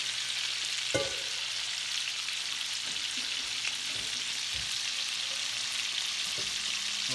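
Large shrimp sizzle steadily in hot oil in a pan, a dense continuous frying hiss with a few soft clinks and stirring bumps, close and even throughout.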